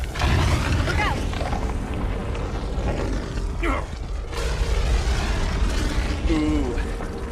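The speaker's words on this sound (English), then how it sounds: "What was that noise, Shepard? Sounded bad. Cave in." Cave-in explosion during a firefight in the video game Mass Effect 3: a loud, rumbling blast with crumbling debris over continuous dense noise, and a brief gliding tone near the end.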